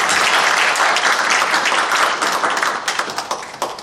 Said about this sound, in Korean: 우리 감사의 박수 한번 할까요?